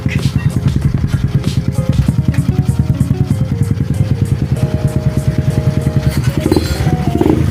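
A motorcycle fitted with a Jad Racing exhaust pipe revs up close by, a loud, bassy, rapid pulsing engine note with repeated throttle blips and rising revs, heard alone without talk.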